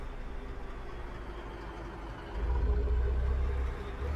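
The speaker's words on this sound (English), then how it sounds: "Listen to that truck, man. I love it." Truck engine in Euro Truck Simulator 2 during career mode: a steady low rumbling drone that swells louder partway through and then eases back slightly, with no voices.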